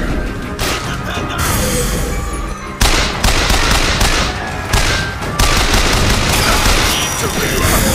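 Heavy automatic gunfire from a firefight in the video game Bioshock Infinite, with loud, dense volleys of shots and bursts rattling continuously over about eight seconds, some sharp impacts standing out.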